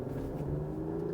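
A 2024 Mercedes-Benz E 450 4MATIC accelerating, a smooth steady engine hum with a low droning tone heard from inside the car, moderately loud and continuous with no talking.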